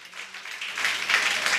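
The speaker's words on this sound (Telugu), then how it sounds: "చప్పట్లు కొడుతూ దేవుని గణపరుద్దామా." A church congregation claps hands in praise, a dense wash of applause that swells gradually, heard from among the crowd without any voices standing out.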